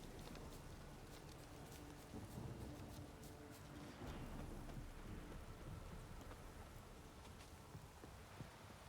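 Steady, heavy rainfall in The Witcher 3 hisses throughout with scattered drops and low rumbles, a constant wash of downpour with no voices.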